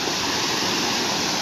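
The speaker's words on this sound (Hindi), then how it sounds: "ये रोड के आर पार सब पानी जा रहा है।" Floodwater from a village pond rushing across a road in Kankavli, Konkan, after heavy rain: a steady, loud, close roar of flowing water with no pauses and no voices.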